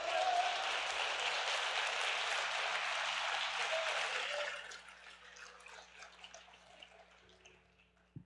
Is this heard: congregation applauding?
yes